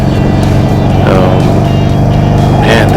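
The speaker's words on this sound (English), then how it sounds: "I like the sound of this engine. This is an air-cooled engine" A 2016 Harley-Davidson Sportster Iron 883 air-cooled engine drones loudly with a throbbing low rumble, running continuously near the listener with slight rises in revving.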